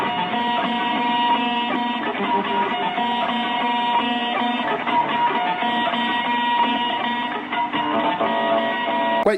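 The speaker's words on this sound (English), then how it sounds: "he's got a whammy bar and a kill switch to save the day." An electric guitar solo with whammy bar and kill switch, a dense, harsh, distorted stream of fast notes with a thin, band-limited tone, continuous and loud with no talk.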